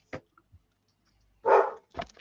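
A dog barks indoors in two separate outbursts, a short sharp yap followed later by a louder, fuller bark and a trailing second one, with faint quiet gaps between and no talk.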